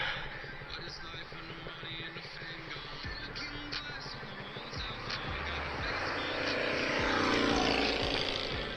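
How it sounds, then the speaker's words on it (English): A small helicopter flies nearby with a continuous rotor and engine drone that swells louder toward the end, while a few thumps and knocks occur close to the recorder. "Nice little chopper."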